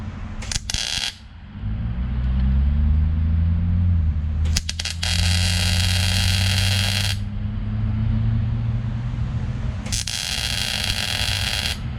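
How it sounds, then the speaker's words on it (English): Welding a part on during a cylinder head repair on a BMW 335i: a loud, steady electric buzz and crackle comes in several long bursts, separated by short breaks, over a low constant hum. "let's go ahead and weld this on."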